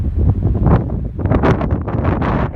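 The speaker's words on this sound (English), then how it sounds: "This is me blocking the wind." Gusty wind buffeting the microphone at the Spokane Bar sapphire mine near Helena, Montana, a loud, continuous rumbling roar with uneven swells throughout.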